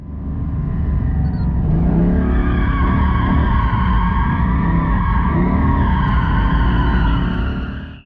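A Porsche 718 Cayman GT4 drifts on a race track, its tyres skidding and squealing in a loud, sustained howl over a steady engine roar that holds for the whole stretch.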